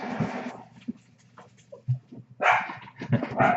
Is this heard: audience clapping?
no